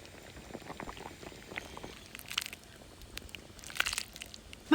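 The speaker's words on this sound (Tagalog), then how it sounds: "At i-simmer lang natin ito 1 oras sa low heat." Caldereta stew with liver spread and cracked pepper simmering on low heat in a pot, a soft steady bubbling and popping that grows a little busier toward the end, close up with no talk.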